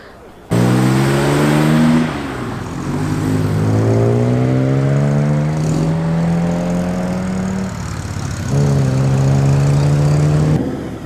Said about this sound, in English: This is a fantastic car, beautiful sounding straight 6.